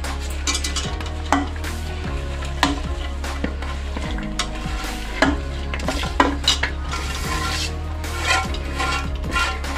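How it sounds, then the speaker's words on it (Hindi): Chopped mustard greens in a cooking pot, stirred with repeated scraping and clanking strokes over a steady low hum and light sizzle. "ये है साग को हमने इस तरह चॉप कर लिया है, अब ये डालेंगे"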